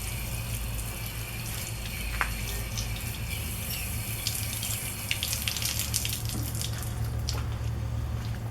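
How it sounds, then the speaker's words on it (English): Water runs from a tap into a bucket, set up for washing a motorcycle; a steady, fairly loud gushing and splashing continues throughout, with no talking. "while the bucket fills up"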